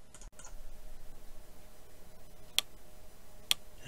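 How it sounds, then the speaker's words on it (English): Two short, sharp clicks from a Fire TV Stick as its menus are navigated, spaced about a second apart over a quiet background hum, with no one talking. "That clicking sound whenever you're navigating the menus on the Fire TV."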